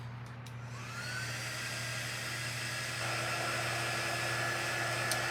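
A dryer blowing over a craft transfer, a steady close whooshing hum that rises slightly after starting and keeps running without pause, with no talking.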